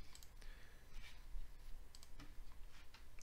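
Computer mouse buttons click in a quick irregular series on a Windows 10 desktop, crisp close taps with short pauses between them and no talking.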